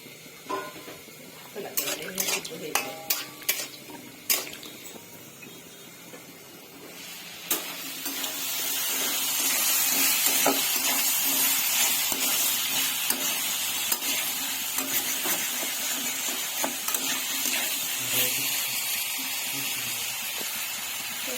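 Salted food being stirred in a pan during a Bengali mutton curry cook, a handful of sharp utensil clinks and scrapes first, then a loud continuous sizzle and hiss with irregular stirring scrapes underneath.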